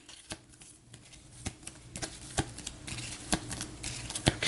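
Playing cards for a board game are shuffled by hand, giving a string of uneven soft riffles and sharp snaps that grow a little busier toward the end.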